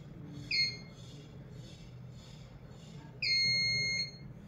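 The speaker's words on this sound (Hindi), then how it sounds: "दो शॉर्ट और एक लॉन्ग बजर," Phoenix PDAS-04 shutter alarm buzzer sounding a short electronic beep followed by a longer sustained beep, clear and high-pitched over a quiet room hum.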